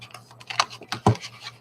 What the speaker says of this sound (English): I'm going to shuffle this up real good.